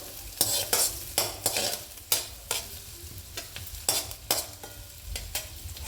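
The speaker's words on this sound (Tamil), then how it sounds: "வெங்காயம் வதக்கும்போது வெங்காயம் வதங்கிட்டோம் கொஞ்சம் வதங்கிட்டோம் பாருங்கள்" Small shallots sauté in a pan for a pesarattu mung bean dosa, a soft continuous sizzle punctuated by sharp, irregular clinks of a utensil scraping and stirring, heard close with no speech.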